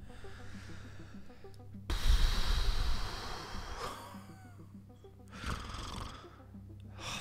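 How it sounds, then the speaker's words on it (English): Heavy, close breathing right in the ear during a tense scene in the Stories Untold game, slow drawn-out rasping inhales and exhales in several waves, with no talk. "Someone's breathing in my ear."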